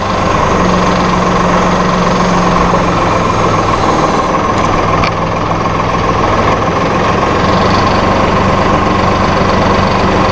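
A Massey Ferguson RK702 TR SDX rotary rake runs with its rotor turning, a loud, constant low drone of tractor engine and machinery with a steady mechanical rumble and no pauses.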